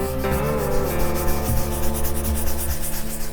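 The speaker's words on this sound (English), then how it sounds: "Like I'm really scrubbing this time." Scrubbing rust off metal treated with rust converter, a rough, rhythmic back-and-forth rubbing with strong strokes, close and loud, with no talking.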